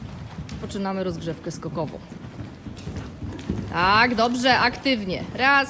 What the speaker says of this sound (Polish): Jedzie następny koń i galopujemy